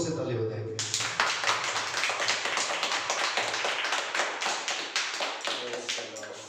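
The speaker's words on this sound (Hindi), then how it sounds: "एक बार यीशु मसीह के लिए जोर से ताली बजाएंगे।" A church congregation claps loudly and steadily for Jesus, a dense, sustained burst of many hands starting abruptly and continuing close and full throughout.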